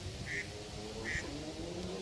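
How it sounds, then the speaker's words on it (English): Wild ducks quack in a back garden in the UK, two short nasal calls a second apart heard at moderate distance over a steady background hum of traffic and ambient noise. "there's quite a few ducks."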